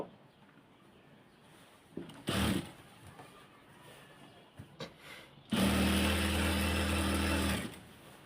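A domestic sewing machine stitching a salwar, heard as a couple of short bursts followed by a loud, steady two-second run of rapid mechanical whirring close by, with quiet gaps between.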